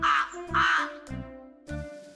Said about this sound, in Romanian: Cioara face cra-cra